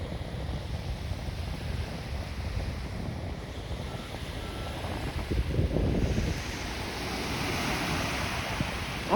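Waves breaking along the Lake Ontario shore at Woodbine Beach in Toronto, a continuous washing surf mixed with gusty wind on the microphone, a slightly louder surge partway through, no voices.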